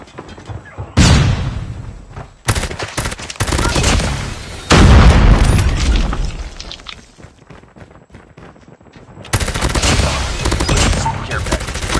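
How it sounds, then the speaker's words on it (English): Call of Duty Mobile gameplay delivers loud, dense bursts of gunfire and explosive booms, including a flashbang. Sustained volleys alternate with brief quieter gaps across the stretch. "Flashbang."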